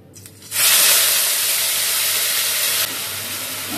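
Onions fry in a hot pan with a sudden loud, steady sizzle that bursts in and holds close and bright, then eases slightly toward the end.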